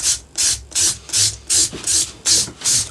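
Micro mesh sanding strokes run up and down a guitar fretboard, close up, as eight even raspy swishes with short gaps between them.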